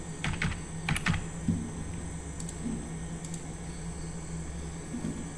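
A one-time password being typed on a computer keyboard, several quick clusters of soft key taps over a steady background hum, fairly quiet with no talk.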